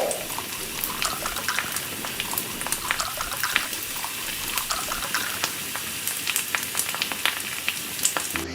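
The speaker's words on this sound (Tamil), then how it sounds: "இப்போ தேவையான அளவுக்கு தண்ணி ஊற்றிக்கலாம்" Water pours into a pot for chicken biryani, a continuous splashing gush with crackly spatter layered through it, steady and fairly close.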